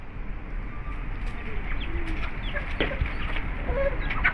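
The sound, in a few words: fighter rooster clucking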